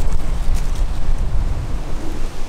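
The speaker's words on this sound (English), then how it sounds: "this is what you get on a windy day" Steady wind buffets the microphone beside a 33-foot compact antenna travel mast, with a low, continuous rumble and no other clear sounds.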